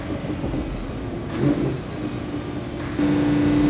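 A Lamborghini Huracán LP610 engine hums steadily and then surges as it accelerates, with a rising whine near the end, heard from inside the car.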